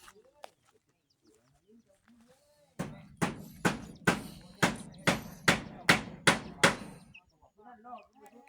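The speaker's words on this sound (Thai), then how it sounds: "เอาแป้นตอกเอา" Hammer blows driving boards into place on an old house, about ten sharp evenly spaced strikes, close and loud, with faint talk around them.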